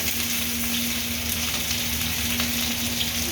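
Cumin seeds and green chillies hit very hot oil in a pan for tempering, producing a loud, steady crackling sizzle that continues evenly throughout with no talking.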